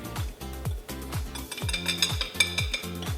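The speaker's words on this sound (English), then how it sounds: "we're gonna mix those dry ingredients together, and then we're gonna put it into the batter" Dry ingredients being stirred into cupcake batter for tres leches cupcakes, heard as a steady run of scraping, clinking utensil strokes against a bowl in a quick repeating rhythm, close up and without talking.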